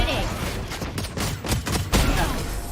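Rapid bursts of gunfire in the Valorant video game, several sharp cracking shots clustered over a couple of seconds, loud and close, with a voice talking briefly.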